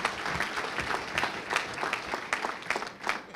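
Crowd at an outdoor building groundbreaking ceremony claps, a loose scattered patter of hands with distinct individual claps rising and falling in bursts.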